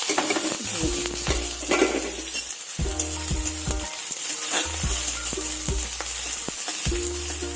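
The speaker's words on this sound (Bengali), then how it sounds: "এরপরে যে ডুমো ডুমো করে কেটে রেখেছি পেঁয়াজ মানে পেঁয়াজটা একটু মোটা মোটা কাটতে হবে তেলটা আর একটু গরম" Thickly diced onions frying in hot oil in a pan for Bankura-style khashta bhaja, with a constant close sizzle broken by repeated scraping stirs of a spoon against the pan.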